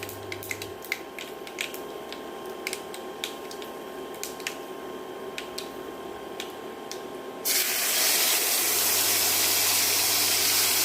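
Ground mint leaves dropped into hot oil already crackling with mustard seeds and urad dal: light popping and ticking at first, then a sudden loud, steady sizzle that takes over and holds to the end.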